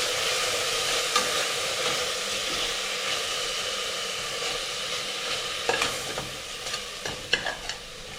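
Coriander powder being stirred into tomato bath in a hot pan, a steady close sizzle with scraping spoon strokes and a few sharper clicks toward the end.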